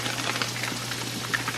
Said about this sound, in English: my bacon is over there just cooking along